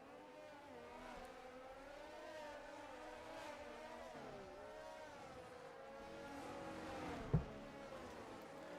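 F1 cars on the formation lap of a racing video game at Bahrain, a faint continuous engine whine with shifting pitch as the pack rolls around, one brief louder blip near the end, no talking.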